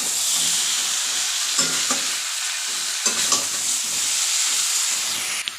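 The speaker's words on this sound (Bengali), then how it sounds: "আলুটা দিয়ে একটু কষে নিয়ে মাথাটা দিয়ে আর একটু কষবো।" Potatoes and a rohu (katla) fish head are stir-fried with spices in a hot pan, giving a steady close sizzle with occasional scraping stirs of a spoon against the pan, no voices.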